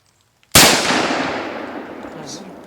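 A hunting rifle shot on the opening day of rifle season cracks out once, loud and close, after a near-silent lead-in, and its echo rolls off over the next two seconds.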